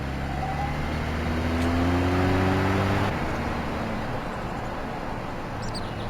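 Car engine in the video game Voices of the Void, a steady droning motor with rising harmonic tones as it accelerates, then easing to a lower rumble, close and continuous with no talking.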